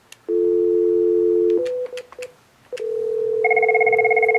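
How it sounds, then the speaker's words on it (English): A telephone sounds a steady ring tone, briefly broken by short clicks, then a higher two-tone electronic ring pulses on, fairly loud with no voices. "There, the phone is ringing."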